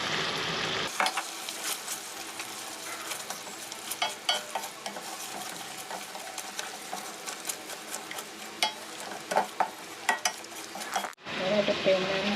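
Green curry paste fried with sugar in a hot pan for Thai pork green curry, a steady close sizzle with repeated scraping strokes of a spatula against the pan, no talking.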